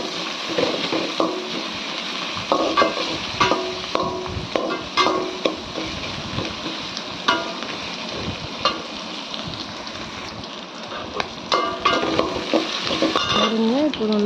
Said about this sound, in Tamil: நல்லா வெங்காயம் ஒரு நிறமாக மாறாது, நல்லா வதக்கிக்கலாம்